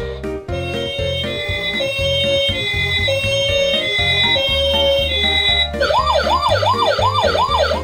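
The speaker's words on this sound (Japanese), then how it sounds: "おじさんを乗せるとサイレンが鳴って、ここと上のところがピカピカ光るよ" A toy ambulance plays an electronic siren loudly and continuously, first a steady two-tone hi-lo pattern, then switching to a fast rising and falling wail near the end.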